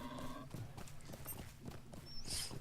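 A horse's hooves clip-clop in a quick, steady galloping rhythm during a race in Lord of the Rings Online, close and fairly quiet, with a brief whinny near the end.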